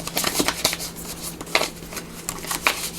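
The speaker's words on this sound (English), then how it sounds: "let me just give these a little shuffle here one more time" Tarot cards are shuffled close up in quick, papery riffling bursts.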